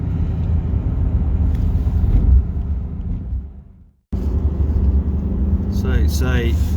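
A 2004 Maserati Quattroporte, freshly carbon-cleaned, drones with a low engine rumble from inside the cabin during a test drive. The sound briefly dips and cuts out, then resumes as a voice speaks over it.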